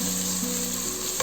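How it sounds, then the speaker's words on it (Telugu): Ginger garlic paste frying in a pan for a Telangana country chicken curry, giving a continuous close, bright sizzle with faint stirring at the very end, no talking. "జింజర్ గార్లిక్ పేస్ట్ వాసన పోయేంత వరకు ఫ్రై చేసుకోవాలి"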